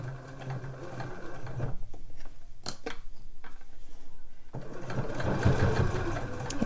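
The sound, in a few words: sewing machine sewing through layers over a slipper boot pull loop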